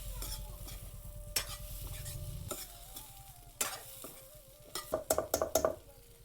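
Air potato vegetable with crushed peanuts stir-fried in a pan, a faint sizzle under scraping stirs that end in quick metallic clinks of a spoon against the pan.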